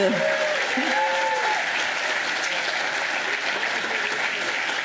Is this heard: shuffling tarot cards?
no